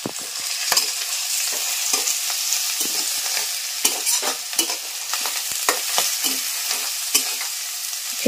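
Mustard seeds crackle and spit in hot oil in a home kitchen, with a dense, bright sizzle and scattered sharp pops, loud and close.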